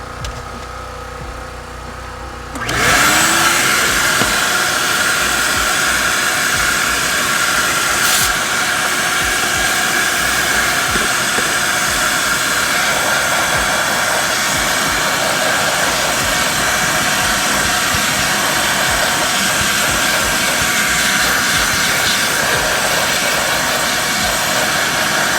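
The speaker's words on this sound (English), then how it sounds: "I just finished the vacuum part of the detail of my process." A loud vacuum cleaner switches on after a short quiet start and roars steadily at close range inside a car during detailing, a constant high whine and rush of air.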